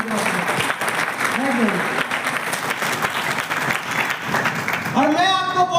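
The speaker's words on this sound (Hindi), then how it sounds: "एक जोरदार तालियां होनी चाहिए आपके" Loud, sustained audience applause at a direct-selling motivational event honoring target achievers, dense clapping filling the room, with a voice breaking in over it near the end.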